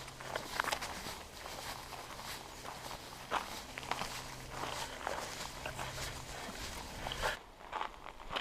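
Footsteps of someone walking outdoors on a quiet morning in the Black Hills, soft and regular crunches close by over light wind, with no talk.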